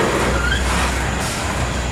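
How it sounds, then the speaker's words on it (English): Loaded CSX coal train hauled by two ES44AH locomotives climbing a hill, a brief steady rumble of rolling rail cars and wheel noise with a faint squeal, heard at moderate distance. "this loaded coal train with those 2 ES44AHs is"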